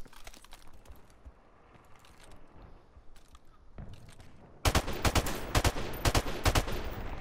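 Rapid automatic gunfire in Modern Warfare Remastered bursts in loudly after a quieter stretch of scattered clicks and faint pops, sharp repeated cracks firing in quick succession.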